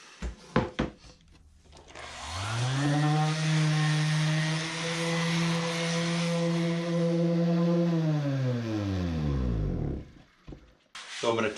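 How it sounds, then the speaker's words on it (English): A power sander works a wooden box top in a shop, spinning up near and loud, holding a steady buzzing whine for about six seconds, then winding down, with brief knocks before and after. "Let's sand it."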